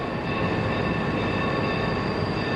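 A mail train thunders along its rails in a dense, steady roar of rolling wheels and rumble, loud and continuous, with no voices.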